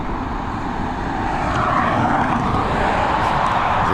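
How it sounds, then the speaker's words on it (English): An Emirates A380 taxiing at Dublin Airport, a steady broad jet engine roar that swells slightly, heard from fairly close with no voices. "we're going to pick up this Emirates because she is taxiing right in front of us"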